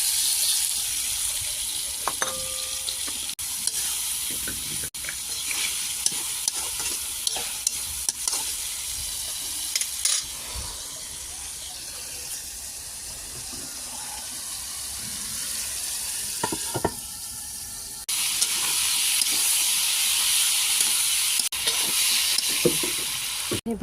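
Fried potatoes sizzle in a fish curry over a clay stove, with a steady frying hiss and repeated scraping stirs and clinks through the whole stretch, close and fairly loud, with no talk.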